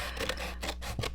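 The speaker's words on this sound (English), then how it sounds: "So I'm just going to use regular scissors." Regular scissors cutting paper while junk journaling, a few short snipping and rubbing strokes close by, fairly quiet, with no talking.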